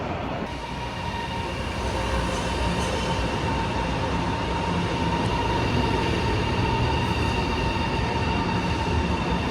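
A bullet train in China pulls into a station platform with a steady, loud rumble, faint wheel squeal and a continuous mechanical drone, no one talking.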